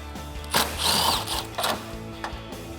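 A ratchet wrench with an extension on 10mm bolts while removing the grill of a 2014-2018 Chevrolet Silverado 1500, close, with bursts of rapid ratcheting clicks and short mechanical rasps.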